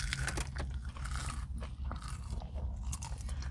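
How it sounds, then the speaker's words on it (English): Crunchy double-battered fried food bitten and chewed up close: repeated sharp, brittle crackles and crunches in an uneven chewing rhythm, quiet and intimate with no talking. "You gotta love that crunch."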